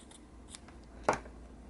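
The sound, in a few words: scissors cutting paper for junk journal flowers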